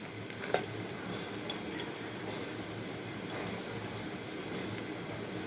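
Food frying in a pan during khichuri cooking, a faint, even sizzle that holds steady throughout, with one brief clink of a utensil near the start and no voices.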